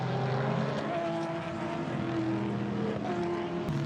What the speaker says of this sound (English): That was Phil Quaife going past Maxime Martin, the CRS car in 3rd place, battling with Maxime Martin, the poleman, for that position